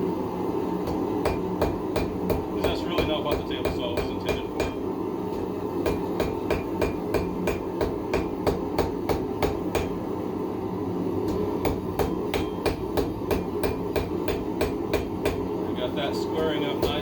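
Hammer blows on hot metal at a blacksmith's forge in cold weather, a long run of sharp, ringing strikes in a fairly regular rhythm with brief pauses, close and clear over a low background hum.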